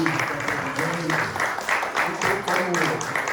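A church congregation claps together in a steady rhythmic pulse of applause, with voices mixed in beneath the clapping.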